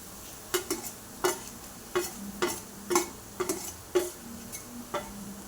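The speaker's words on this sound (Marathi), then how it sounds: "आणि मेथी टाकून घेऊया हे चांगले परतून घेऊया मिक्स करून" A spoon stirs and scrapes through an egg dish with fenugreek leaves and spices in a pan at breakfast, giving about a dozen crisp, fairly regular clinks and scrapes over a faint, steady sizzle with no talking.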